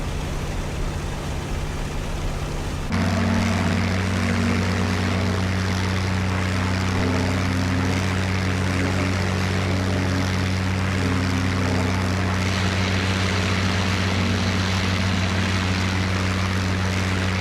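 A WWII propeller aircraft engine in IL-2 Great Battles, throttled back to a steady, loud, close drone that thickens into a fuller, louder hum after a few seconds and holds unbroken to the end.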